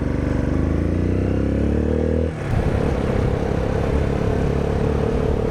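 A motorcycle cruising along a highway gives a loud, steady engine drone with rushing wind, and the engine note shifts partway through, as if from a gear change. The roar stays close and constant, with no talk.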